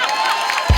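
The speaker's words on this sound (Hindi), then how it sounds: "इस बात के लिए जोरदार तालियां" Burst of studio audience cheering and applause from a comedy show crowd, swelling suddenly at the very end after a stretch of quieter crowd murmur.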